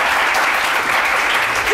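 An audience at a weekend show claps in a brief, dense burst of applause, even and continuous with no voices over it.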